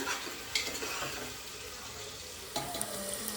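Sliced onion sizzles steadily in hot oil for a spicy mutton boti curry, with a spatula scraping and clinking against the pan as it is stirred, close and continuous.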